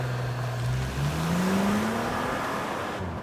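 A 2019 Audi Q8 SUV, 335 horsepower, pulls hard under acceleration, its engine note climbing steadily in pitch and holding loud and close for several seconds before easing off at the end.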